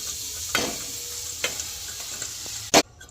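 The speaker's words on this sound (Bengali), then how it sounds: "এবার আমি গুড়টা দিয়ে দেব।" Jaggery goes into a hot pan for peanut chikki with a steady sizzling hiss, a few soft scraping stirs, and one sharp clink near the end.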